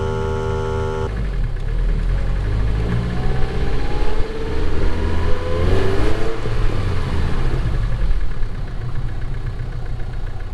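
An MG TF VVC car engine starts and runs, settling into a steady close idle with a brief rise in revs partway through, loud and continuous.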